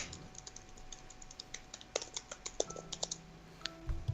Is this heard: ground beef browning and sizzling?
no